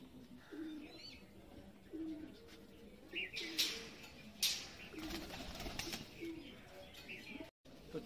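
Pigeons in a pigeon loft at R.S. Pura, with Aliwala and Teddy breeds, give soft low cooing in short repeated bursts, faint and fairly near, over quiet room noise with a few brief sharper rustles.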